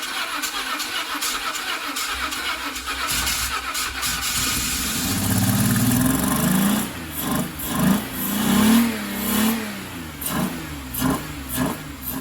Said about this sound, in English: the car now runs beautifully